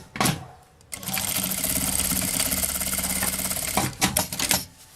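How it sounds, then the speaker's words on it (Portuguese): A sewing machine stitches a seam on a small cosmetic case, running in one long, steady, loud burst after a couple of short starts, then stopping into a few handling knocks, with no talk over it. "e passo uma costura"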